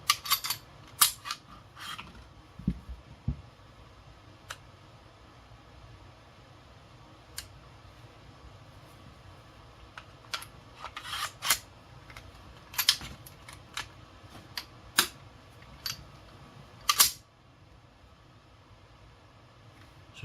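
A Springfield XD Mod 2 pistol is taken apart, producing sparse sharp metallic clicks and snaps close by, scattered irregularly over a quiet background, with a short flurry near the end.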